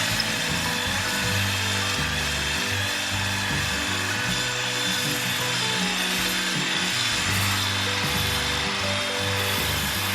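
A power tool hones the cylinder bore of a Small Block Chevy engine block, a steady close grinding buzz with a rhythmic pulsing drone as the hone works up and down the bore.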